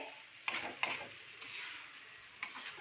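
Prawns are sautéed on a tawa for a spicy tawa fry. Quiet sizzling runs underneath a few sharp spatula scrapes and taps, close by and fairly faint, with no speech.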